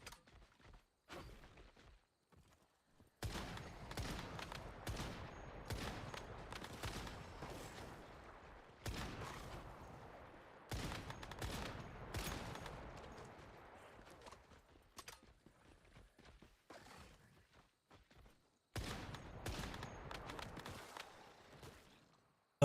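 A tier 4 gun in Once Human fires in repeated bursts of shots separated by short quiet gaps, faint overall and without talk.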